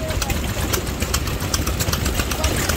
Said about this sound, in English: Running the air compressor.